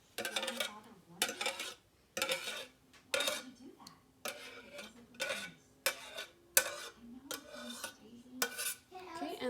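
Pork hash filling stirred with oyster sauce in a bowl, giving bursts of wet stirring and utensil clinks against the dish, close and repeated in short strokes with brief pauses.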